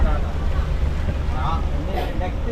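Speed boat on the Alleppey backwaters in Kerala, a steady low engine rumble with wind and water rush throughout, voices talking over it.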